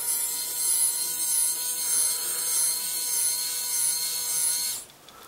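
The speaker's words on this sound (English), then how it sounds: "So I'll just show you the motor lowering the mower there." Small electric motor on an RC John Deere 8360 RT model tractor, lowering the mower on its lifting arms: a steady high thin whine that holds evenly for several seconds, then cuts off abruptly.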